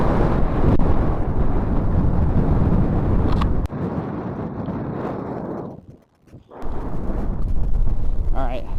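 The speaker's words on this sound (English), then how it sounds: "with the wind blowing like this" Strong wind roars and buffets the camera microphone in a wide open snowy space, loud and continuous with gusty surges, briefly dropping almost to silence before rushing back in.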